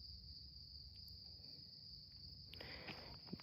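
Crickets chirp in a steady, high, continuous trill, quiet and distant, with a few faint rustles near the end.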